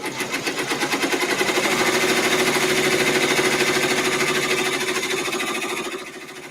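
A multi-needle embroidery machine stitches a tack-down on a Kimberbell mini-quilt, producing a loud, close, fast and steady mechanical chatter that runs continuously and eases off slightly at the end.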